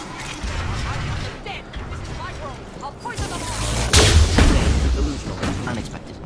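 Rapid gunfire in Mass Effect 2, a string of loud booming shots with a heavier blast near the middle, layered over game ambience and mechanical clatter.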